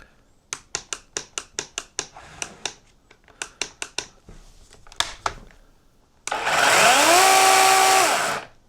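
A chainsaw is started by hand: a quick run of sharp, rhythmic pull-cord rattles, a pause, a few more pulls, then the engine catches and revs loudly, rising and holding high before cutting off.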